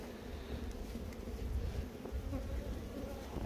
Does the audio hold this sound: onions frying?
no